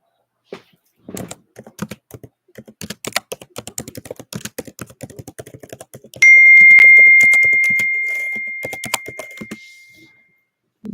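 Close, clear keystrokes on a computer keyboard tap out in quick irregular bursts, with a sustained electronic tone sounding over the typing for a few seconds near the end.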